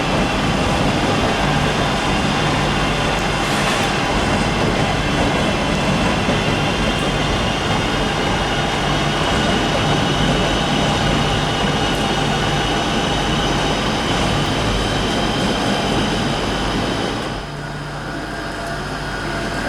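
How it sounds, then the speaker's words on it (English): An HST high-speed train pulls out of Birmingham New Street station with a loud, steady engine drone and rumble that holds for close to twenty seconds, easing off slightly near the end. "here's an HST coming out"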